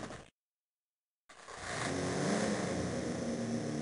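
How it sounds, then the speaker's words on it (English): A motorcycle engine in a garage in the Silent Hill Play Novel game: after a second of total silence it starts up, rises into a loud rev and then holds a steady, throaty run. "Cybil straddles the motorcycle in the garage, inserts the key and revs the engine."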